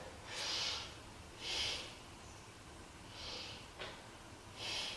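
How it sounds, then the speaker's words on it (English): Slow, deep breaths during a yoga pose for strengthening the knees: four airy, hissing breaths, close and quiet, spaced evenly about a second and a half apart, with no talking. "Let's take 3 breaths here."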